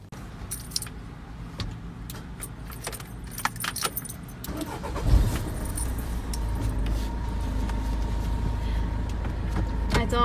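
Keys jangle and click, then a camper van engine cranks and catches with a low thump and settles into a steady running rumble that grows as the vehicle pulls away, with brief voices early on.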